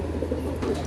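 A pigeon coos in a short, low, soft burst, close by and alone.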